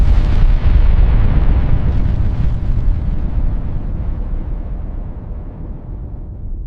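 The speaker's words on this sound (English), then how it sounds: "The explosion happened on a Tuesday." A massive, rumbling explosion booms and then slowly fades out over several seconds, with no voices.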